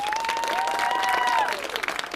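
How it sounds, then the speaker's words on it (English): Studio audience applauding a guest on a television talk show, a dense wash of clapping and crowd noise with some whooping tones, steady and then thinning toward the end. "Can I get a round of applause for Hugh Dancy?"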